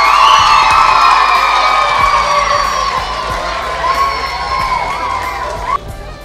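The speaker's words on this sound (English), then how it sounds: "May we give them a big, big, hearty round of applause." A large crowd cheers at a school speech day, children shouting and whooping loudly and continuously, with some clapping beneath, before the noise cuts off near the end.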